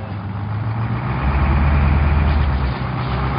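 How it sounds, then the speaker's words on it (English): A feed truck on a cattle feedlot farm idles steadily, its diesel engine producing a low, continuous rumble at close range with no other sounds. "This is what a feed truck is."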